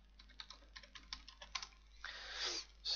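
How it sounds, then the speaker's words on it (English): Computer keyboard typing while entering farm records into software: a quick irregular run of key taps, close and clear, ending in a denser burst of clicks. "Start typing it in here."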